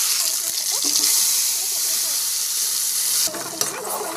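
Ginger powder frying in hot oil with spices for a protein-rich home recipe, giving a steady broad sizzle with a few stirring scrapes, and a brief shift in the frying noise near the end.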